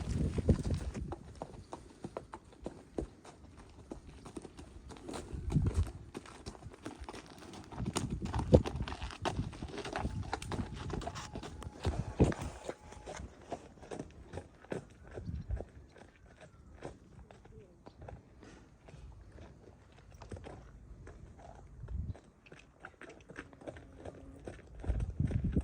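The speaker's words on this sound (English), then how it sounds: "And then trot him away, trot him back." A horse's hooves clip-clop at a trot, travelling away and then returning during a farrier's hoof-treatment check, an irregular patter of steps with background noise and faint talk.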